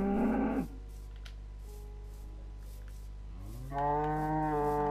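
Two Minecraft cow moos, one at the very start and another near the end after a quiet stretch, each loud, close and tonal over a constant low game hum, with no one talking.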